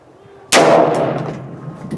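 A single loud, close rifle shot in .223 Remington with 55-grain ammunition cracks out at an outdoor range, then its echo rings and decays slowly.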